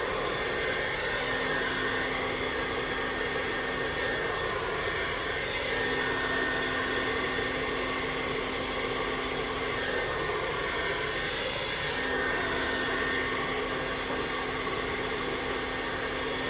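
A hair dryer blows steadily during a round-brush blowout, moving through roots, mid-lengths and ends. Its broadband airflow roar holds a constant pitch with slight surges as it moves, and no one talks over it.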